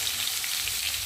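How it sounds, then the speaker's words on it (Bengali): Chopped ridge gourd fries in hot oil with ginger, a dense, close, continuous hiss of sizzling without any voices. "আর এখন এই যে কেটে রাখা ঝিঙেগুলোকে দিয়ে ভালো করে একটু ভেজে নেব"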